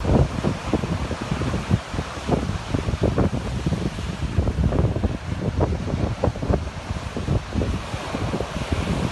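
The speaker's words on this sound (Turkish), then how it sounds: "kuvvetli rüzgar nedeniyle oluşan dalgalar sahilleri ve istinat duvarlarını dövdü" Strong storm wind roars over heavy sea surf, with waves three to four metres high crashing continuously against the shore and retaining walls, and loud gusts buffeting the microphone.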